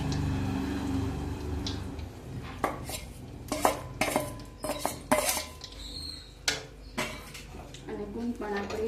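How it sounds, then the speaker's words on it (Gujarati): Roasted edible gum and ghee are mixed in a pan with a spoon, making close irregular clatter and scraping of metal on the pan, with a faint voice in the background. "ગુંદ પણ આપણે નાખી દેવાનો છે। સરસ રીતે આપણે મિક્સ કરી દઈશું।"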